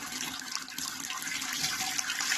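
Hot sparge water is poured over the grain mash while brewing raspberry beer, a constant close rushing splash with no pauses and no talk.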